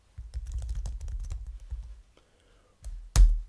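Typing a comic title on a computer keyboard: a quick run of close key clicks, a short pause, then a louder single keystroke, likely the Enter key, with no talking.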